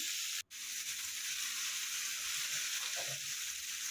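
Washed, well-drained chard sautéing in a pan for Egyptian taro, a steady bright sizzle throughout with one brief drop near the start, close and moderately loud.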